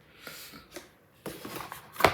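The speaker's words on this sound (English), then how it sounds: "I'm shuffling the deck for anyone who is watching or who's listening on the podcast" A deck of affirmation cards is shuffled by hand in short riffling bursts, close and fairly soft, with a sharper snap at the end.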